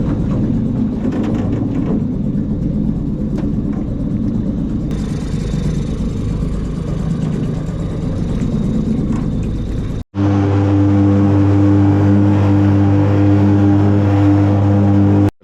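A 5hp Mercury outboard motor runs with a steady droning hum, then the sound cuts abruptly to a louder, higher-pitched whine that holds to the end.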